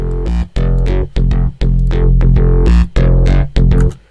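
Dry bass synth from FL Studio with all effects plugins switched off, playing a loud, steady pattern of sustained notes separated by short gaps, heard alone.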